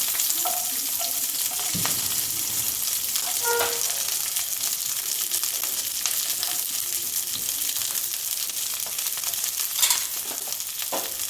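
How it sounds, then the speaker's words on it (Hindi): Garlic and onion fry in oil in a kadhai for a Chicken Manchurian, making a loud, continuous, hissing sizzle with a few faint clinks and stirring knocks scattered through it. "इसमें जाएगा गार्लिक, थोड़ा सा, और गार्लिक के साथ ये जो ओनियन है, प्याज, ये हम ऐड कर देते हैं इसमें।"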